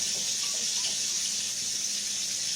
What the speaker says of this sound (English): Now let me wash my hands off so I got soap all over it.